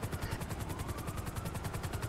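Helicopter in the video game GTA Online: a steady, fast rotor chop with rapid rhythmic beating throughout, fairly faint and with no talk.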